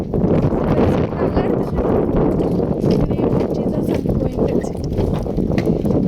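Speed boat ride on the water at Belur, a constant loud roar of engine and rushing wind buffeting the microphone throughout, with voices partly buried beneath it.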